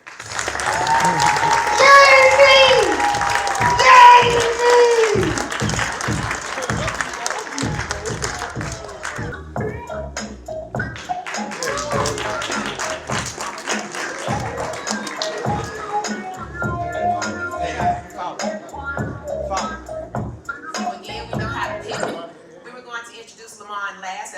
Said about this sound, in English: Can we please give a round of applause again for David Banner?